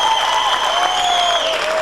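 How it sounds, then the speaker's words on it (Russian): Audience applause for contestants at a 2005 concert, steady clapping that fills the whole short moment alongside a sustained tonal hum, likely music or feedback. "Еще раз аплодисмент нашим конкурсантам."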